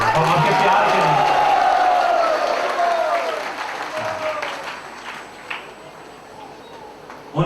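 An audience at a spiritual discourse breaks into loud, sustained applause that gradually thins and fades, with scattered claps lingering toward the end.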